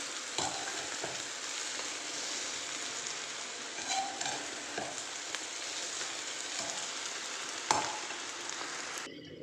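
Pepper powder being stirred into paneer pepper dry in a hot pan, a steady close sizzle with soft scraping stir strokes and occasional clicks, no talking.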